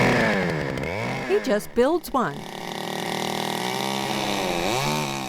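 A chainsaw carves a nest cavity into a tree, its engine revving up and down in warbling pitch sweeps, with someone talking over it.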